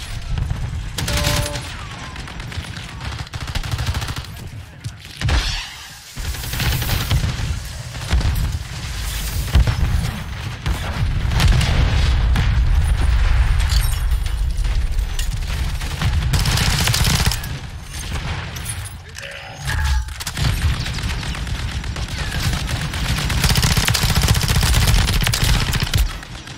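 Intense gunfire in the shooter Call of Duty: Modern Warfare III, with shots piercing a wall: long stretches of loud automatic fire broken by sharp single shots and booming impacts, nearly continuous with brief lulls.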